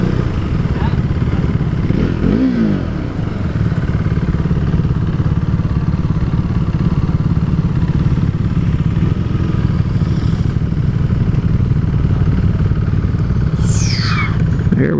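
A KTM 390 Duke single-cylinder motorcycle idles close by in a steady, continuous low rumble with a faint mechanical clatter, alone and unchanging across the whole stretch.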